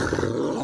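A big dog in a Filipino animated cartoon lets out a short, loud, rough growl that lasts under a second, with no speech over it.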